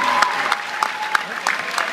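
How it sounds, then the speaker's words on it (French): Crowd at a swimming pool in Clichy-la-Garenne clapping for Olympic swimmers, their coach and children, with scattered claps ringing in a reverberant hall while voices talk underneath. "On peut applaudir l'entraîneur,"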